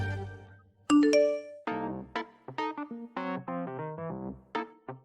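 A phone message notification chimes in a drama scene: a short melodic run of bright ding tones, loud and close, following a low hum at the start, with no voices.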